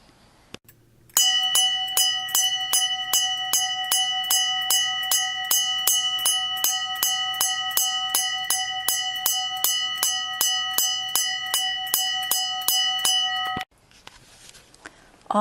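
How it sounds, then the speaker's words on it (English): Bell of Genesis rung during a Garland of Genesis ceremony: a clear metallic bell struck rapidly and steadily for about twelve seconds, bright ringing overtones sustained throughout, then stopping abruptly. "We will begin by ringing the bell of Genesis, sounding the call of awakening."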